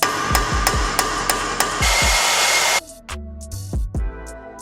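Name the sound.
torch heating rusty Honda brake caliper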